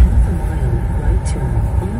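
A Nissan Leaf electric car is driving on the road, its low, steady rumble of road and tyre noise continuing without a break, with a brief hiss partway through.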